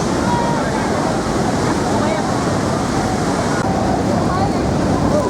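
Water of Niagara Falls thunders in a steady, loud, unbroken roar that fills the whole scene, with wind rushing across the microphone throughout.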